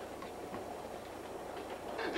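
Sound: train running on rails

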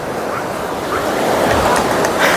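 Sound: beach surf at Pitangueiras beach, Guarujá

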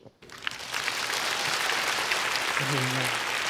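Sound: audience applause welcoming musician

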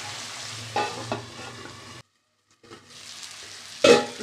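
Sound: soybean curry being stirred in a pan after adding water

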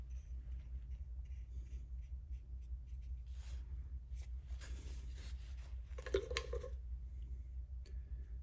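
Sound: scribing bevel grind lines on a knife blank

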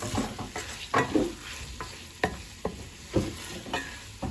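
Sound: tripe being sautéed in a pan

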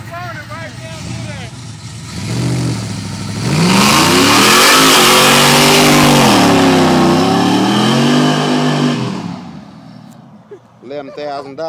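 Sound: Chevy AWD 6.0 LQ4 car doing a burnout

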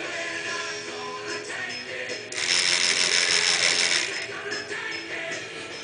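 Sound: 9-volt relay clicking, driven by 555 timer and decade counter

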